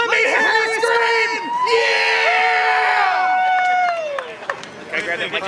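A crowd of fans at an RC monster truck race screams and cheers loudly and continuously, with high shrieking voices dominating, fading somewhat near the end.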